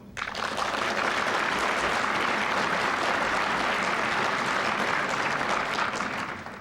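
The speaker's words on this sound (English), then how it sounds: "Those of you who think it's a good idea, please applaud." A conference audience applauds together to register a vote, producing dense, steady clapping that swells quickly, holds evenly for several seconds, then tapers off.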